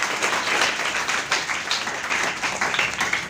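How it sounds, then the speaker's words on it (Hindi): A group claps steadily as applause during an indoor demonstration of experiments, a dense, even wash of handclaps at fairly loud level with no voices over it. "ताली बजाओ भाई,"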